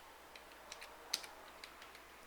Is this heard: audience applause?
no